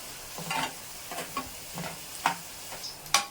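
Onions for egg poriyal frying in a pan, a soft steady sizzle broken by several sharper scrapes and stirring knocks of a spatula, close and moderately quiet with no talking.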